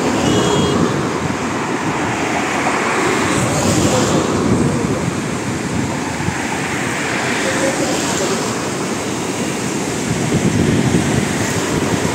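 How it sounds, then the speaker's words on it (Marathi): Sea waves washing below the Mumbai sea link, heard as a steady broad roar with passing road traffic and wind buffeting the microphone throughout. "समुद्राची गाज ऐकताना किती मनाला एकदम शांती पण मिळते"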